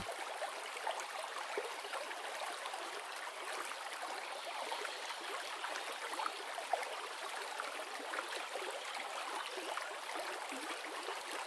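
A river flows steadily in open countryside on a mild late afternoon, a continuous soft broadband rush of moving water with no voices.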